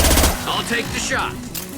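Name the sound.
gunshot in the video game Mass Effect 2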